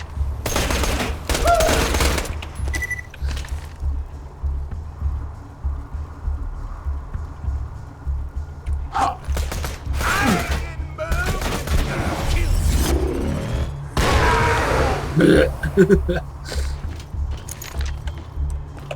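Shots from a fire-shooting shotgun in Borderlands 2 come in several loud clustered bursts, separated by quieter stretches of low rumbling game ambience.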